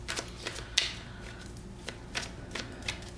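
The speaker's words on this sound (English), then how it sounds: "shuffle until we get all the jumpers out of the deck" Tarot cards being shuffled close by, with soft riffling and a few crisp snaps at irregular intervals, quiet and without talk.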